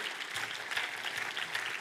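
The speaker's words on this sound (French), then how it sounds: "Est-ce qu'on pourrait justement les applaudir?" Audience in a church gathering applauding couples married 25 years or more, a steady, even wash of clapping throughout, fairly faint and distant with no voices over it.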